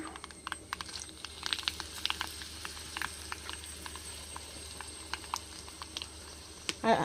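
Dried red chillies fry in a pan of oil for a crab thoran, making a soft, steady crackle with scattered small pops, quiet and close with no voices.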